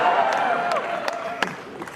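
Crowd at a large Amway celebration event clapping and cheering, a broad wash of applause and voices with a few sharp claps and shouts standing out, fading somewhat toward the end.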